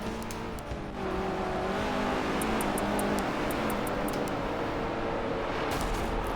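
Race car engines in a racing video game roar steadily and loudly, with a droning, buzzing tone held throughout and brief high ticking sounds over it.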